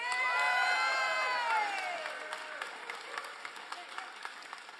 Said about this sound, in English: Can we give a round of applause all the way from Northeast Baltimore to Councilwoman Danielle McCray?